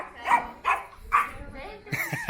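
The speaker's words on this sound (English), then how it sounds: "That's her guard dog." A small guard dog barks several times in an urban neighborhood in Mérida, sharp yappy bursts spaced about half a second apart, close by, followed by a short whine-like vocalization.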